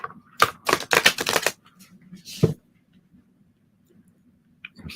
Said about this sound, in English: riffle shuffle? I doubt it. Let me try.